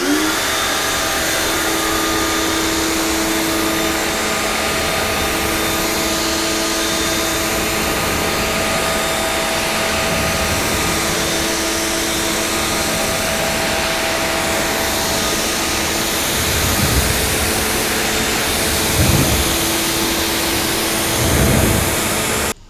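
A pressure washer rinses snow foam off a car, a loud continuous hissing spray lasting throughout, with brief surges in intensity toward the end.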